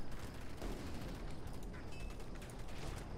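Units fire guns in the strategy video game Command & Conquer 3: Tiberium Wars, a steady stream of rapid crackling gunfire and mechanical clatter, continuous and fairly loud throughout.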